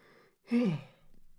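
One person yawning: a short, breathy drawn-out exhale lasting under a second, close to the microphone, with quiet room noise before and after and no speech.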